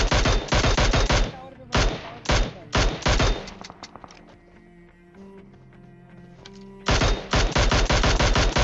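Mini 14 rifle gunfire in a PUBG match rings out in rapid, sharp bursts of shots, pauses briefly amid faint game sounds, then resumes with another quick volley.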